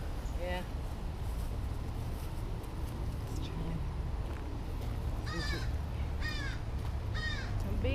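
Crows caw outdoors in short rasping bursts, once early and then in a quick cluster near the end, over steady low background rumble.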